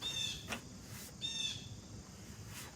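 Birds chirp outdoors beside an above ground pool, with a few bright, short calls repeating at intervals over quiet background noise. No one speaks.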